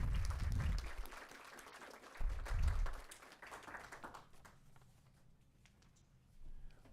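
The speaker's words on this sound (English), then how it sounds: "let's give one more round of applause for all of our winners" Audience applause for award winners at a school board meeting, a short burst of clapping that fades within a few seconds into quiet room noise, with low thumps.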